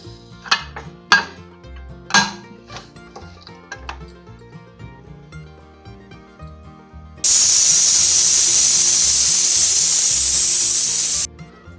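Pressure cooker holding brinjal (vangyachi bhaji) venting steam on a gas stove: a few sharp metallic knocks and clatters, then a sudden loud, sustained hissing rush of steam lasting about four seconds before cutting off.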